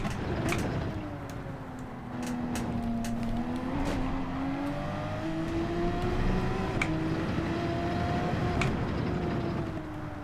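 A Porsche Group 3 race car at the Nurburgring GP course in Gran Turismo 7, its engine droning steadily with rising and falling pitch through gear changes.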